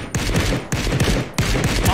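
Gunfire in the video game Ring of Elysium comes in three loud, close bursts about two-thirds of a second apart, each with a sharp attack and a rumbling, ringing tail.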